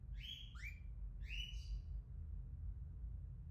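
A pet bird gives a few bright, quick chirps and calls close by in a quiet room, three short bursts in the first two seconds and then only a faint low hum.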